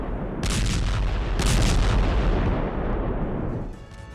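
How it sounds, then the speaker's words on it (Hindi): A Russian air force bombing of a Ukrainian weapons depot in Kherson sends heavy booming blasts in quick succession, with a rumbling roar that swells and fades before settling into quieter crackling. "खेरसोन में रूसी वायुसेना का हमला, यूक्रेनी हथियार डिपो पर बम गिराए गए।"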